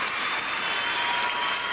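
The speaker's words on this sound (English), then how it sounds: "Standing ovation from many in the crowd as Ilya Kulik watches just off the ice." A figure skating crowd at the 2001 Hallmark World Professional Skating Championship gives a standing ovation, steady dense applause filling the arena without a break.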